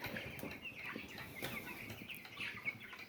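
Young broiler chickens, about three to four weeks old, clucking and peeping in a brooder house, with soft overlapping calls and occasional rustling and wing flaps, faint and close.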